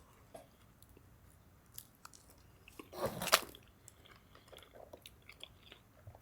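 Someone chewing a chicken salad sandwich with crunchy celery, quiet soft crunches and squishes near the mouth, with one louder bite burst in the middle.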